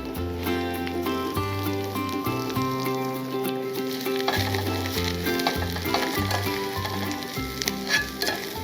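Sweet potatoes and chopped garlic sizzle steadily in olive oil, a continuous frying hiss over sustained music-like tones.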